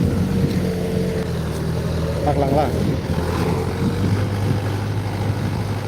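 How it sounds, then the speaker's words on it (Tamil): A steady tractor engine drone with a low rumble runs throughout as the tractor ploughs a farm field nearby, while a person speaks briefly over it. "tractor start பண்ணிட்டாப்புல"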